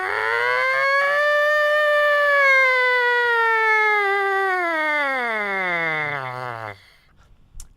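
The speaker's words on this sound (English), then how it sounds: "We're going to take our lips, start buzzing in the mouthpiece" Lips buzzing into a trumpet mouthpiece, one long sustained tone that slowly climbs, holds, then slides down in pitch like a siren, loud and close for about seven seconds before stopping.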